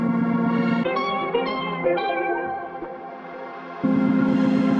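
A chopped melodic music sample for a beat, with echo and granular effects, plays in short shifting tonal segments with bright sustained notes and choppy transitions, loud and alone.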